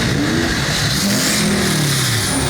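Diesel dually pickup truck with a manual transmission at a cruise night in Festus, its engine revving up and down in strong rising and falling sweeps, loud and close.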